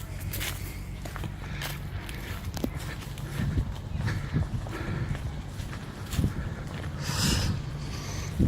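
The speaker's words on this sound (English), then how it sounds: "And they do Cobb & Co rides on horse and cart. Here it comes back in now." A horse and cart for Cobb & Co rides at a campground in Tandur, Queensland, coming back in, with steady hoof clip-clops and wheel rumble at moderate distance over outdoor ambience.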